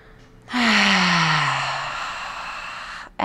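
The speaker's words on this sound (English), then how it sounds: "We're starting with the big breath in. Exhale." A single deep breath drawn in, then a long, close, audible exhale that fades out slowly, during a Breath of Fire breathing exercise.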